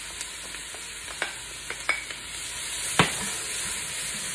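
Beef chunks seasoned with pepper sizzle quietly in a stew pot, with a steady soft frying hiss broken by a few sharp scrapes and clinks of stirring.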